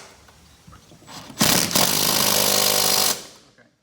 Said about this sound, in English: We have a compressor that's designed to go off when you're busy talking.